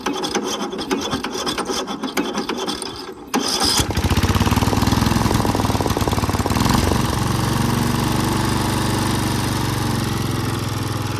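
A Murray lawn mower cranks with a rasping pull and catches, then its small engine roars into a loud, steady, close-up idle that runs evenly to the end.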